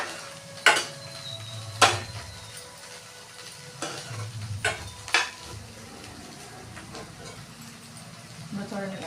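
Sliced bitter gourd with its seeds frying over medium flame, a constant sizzle broken by sharp scrapes and clinks of a spoon stirring the pan, while someone talks over the cooking.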